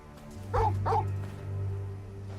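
Dog in the video game Final Fantasy XVI giving two short, close barks or yips in quick succession over a steady low hum of game background sound, then a quiet whimper.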